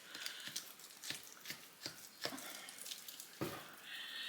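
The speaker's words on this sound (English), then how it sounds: "I am just chopping up this whole thing, just canned pork" Knife cutting pork butt off the bone in a home kitchen before canning, a series of short sharp cuts and scrapes at irregular intervals, close and fairly quiet, with no talking.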